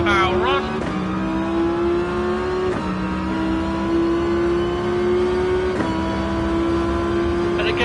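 Racing car engine in a driving game climbs steadily through the gears, with sharp shift breaks roughly every two to three seconds as the pitch drops and rises again, loud and continuous while someone talks over it.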